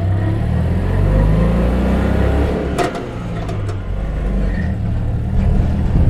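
British-built 1955 Citroën 2CV with a 425cc engine driving off-road over a field, a loud steady low engine drone with bumps and rattles.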